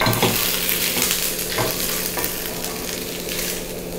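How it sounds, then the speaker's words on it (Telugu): Onions and garlic fry in oil in a pan for a burnt-onion coconut chutney. A loud, steady sizzle runs throughout, with scraping stir strokes close by. "అన్నీ వేసి ఒక్కసారి కలిపేయాలి."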